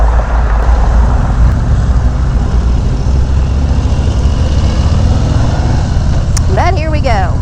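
Harley-Davidson CVO motorcycles ride along with a loud, steady engine drone and heavy wind rush, and a short voice breaks in near the end.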